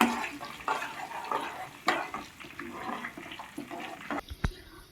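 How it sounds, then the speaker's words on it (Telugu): Tempering with asafoetida is stirred and fried in a pan for a cauliflower pickle. Soft sizzling and crackling run steadily, with a few clinks of the spoon against the pan, close and fairly quiet. "ఉడికి ఒకసారి అయితే ఇట్లా కదిపేసుకొని మంచిగా పోపు అయితే వేయించుకుందామండి"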